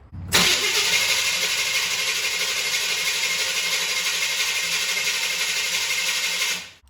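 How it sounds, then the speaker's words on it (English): A car engine fitted with a Holley 1850 carburetor cranks briefly and fires right up, then runs at a loud, steady idle for several seconds before cutting off. "let's go crank it"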